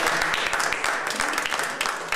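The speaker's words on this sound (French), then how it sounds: "Je pense que vous pouvez les applaudir." Audience applause for a prestigious police music quintet, a dense, steady patter of clapping sustained evenly across the whole span at moderate volume with no speech.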